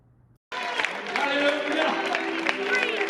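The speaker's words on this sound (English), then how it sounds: "No idea why they're clapping." After a brief quiet start, a healing service crowd breaks into sustained clapping and loud crowd noise, with voices and shouts blended into the applause throughout.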